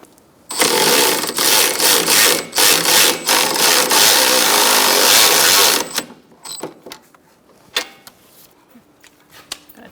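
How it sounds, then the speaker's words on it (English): A battery-powered ratchet whirs loudly in several short bursts, then one long continuous run, as it spins a lower control arm bushing nut on a 2002-2006 Honda CR-V, followed by quieter clicks and tool handling. "using my battery ratchet"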